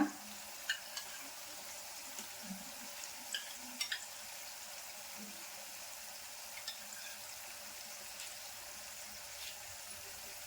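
Masala with tomato sauce being stirred in a frying pan, a faint steady sizzle with soft occasional scrapes of a spoon, quiet and continuous.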